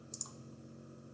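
Two quick, crisp computer mouse clicks land close together near the start, made while working with layers in drafting software; afterwards only a low, steady room hum remains.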